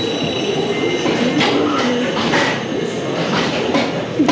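An Iron Gwazi hybrid RMC roller coaster train at Busch Gardens Tampa, with eight riders seated side by side, rumbles steadily along the track, loud and close, with metallic clatter and brief surges.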